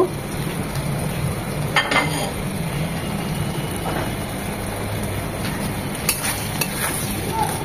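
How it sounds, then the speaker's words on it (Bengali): A spoon stirs beef brain into a spice masala in a pan. A continuous sizzle runs underneath, broken by occasional scrapes and light clinks against the pan, all at close range. "মশলার সাথে খুব ভালোভাবে নেড়ে চেড়ে মিশিয়ে নেব।"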